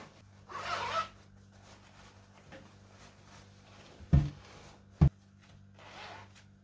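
A zipper on a hand-sewn bishop-collar blouse is drawn shut, a brief rasping zip followed by a couple of sharp close knocks and another soft zip, near and quiet.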